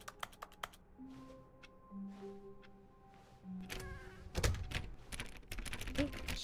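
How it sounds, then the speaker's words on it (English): Keyboard typing in The Stanley Parable video game: a run of sharp, separate key clicks over a low, steady hum, giving way to a denser, louder clatter of keystrokes. "I have the magic keyboard noise."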